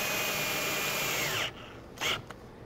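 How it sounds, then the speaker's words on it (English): A power drill drives screws into a high wooden deck chair from Birch Grove Furnishings, whining steadily up close, then cutting off and giving a brief final burst. "start putting my screws back in"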